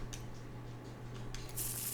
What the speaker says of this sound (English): Let's shuffle them again.